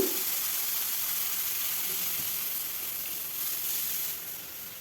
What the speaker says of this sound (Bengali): আদাটা দিয়ে আবারও কিছুক্ষণ ভেজে নেব কাঁচা গন্ধ যেন চলে যায়